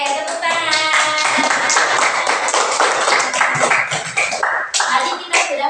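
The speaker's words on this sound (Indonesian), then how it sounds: "Oke, tepuk tangan." A classroom full of students clapping together, a dense, steady burst of many hands lasting several seconds, with children's voices calling out over it.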